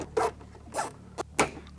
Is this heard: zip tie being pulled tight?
yes